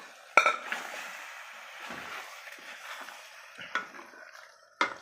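Cooked gongura leaves mashed inside a pressure cooker, with a metal spoon scraping and knocking against the pot, sharp clanks at the start and end and softer squelchy stirring in between.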